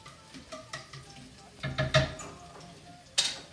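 Onions sauté in a pan for homemade migas, giving a soft sizzle broken by a few scraping stirs and clinks of a utensil against the pan.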